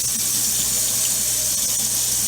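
A kitchen tap runs steadily, filling a container with water for cooking rice: a close, continuous rushing hiss with no voices over it.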